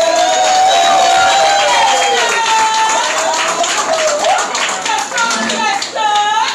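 A crowd claps and cheers at a live album-release concert, with loud continuous clapping overlaid by tonal whistles or shouts from the audience throughout.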